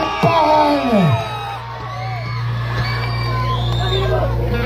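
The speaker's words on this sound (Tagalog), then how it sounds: "Bayan ng Laur, pwede bang marinig ang pinakamalakas na sigawan" A festival crowd in Laur, Nueva Ecija, whoops, yells and cheers loudly at a live concert, with sharp rising shouts at first settling into a sustained roar of voices.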